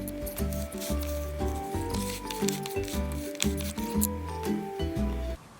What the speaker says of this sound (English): Rotate the drive shaft to ensure that the gears are working